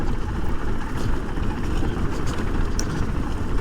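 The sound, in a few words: KTM 500 EXC-F motorcycle idling downhill in sixth gear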